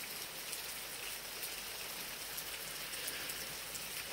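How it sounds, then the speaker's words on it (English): Warm tropical rain falls steadily, a dense, even hiss of drops close by with no pauses and no voices. "Thanks for the rain, Earthy."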